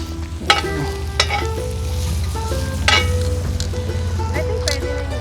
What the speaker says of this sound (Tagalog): Magluluto tayo ngayon ng sausage at marinated chicken.